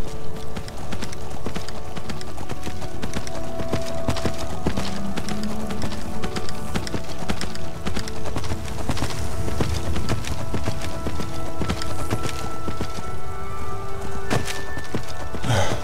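Horse hooves galloping in Skyrim, a steady fast clip-clop rhythm running the whole way through, fairly close, with ambient game music tones beneath and no talking.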